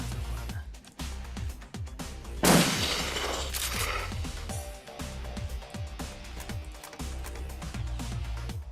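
Video game gunfire from Shadowrun Returns, rapid repeated shots in a dense volley with a loud burst around the middle, steady and close over continuous game sound.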